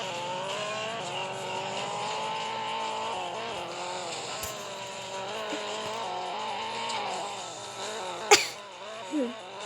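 Video game car engine from Extreme Car Driving drones steadily and loud, with a sharp tire screech or skid near the end and a short squeal just after.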